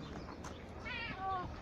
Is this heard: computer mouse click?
no